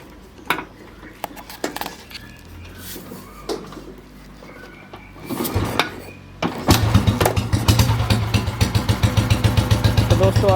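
Restored Royal Enfield Bullet Electra 5S motorcycle, a few clanks and knocks before it starts, then a loud, close, steady single-cylinder idle with a regular thumping beat.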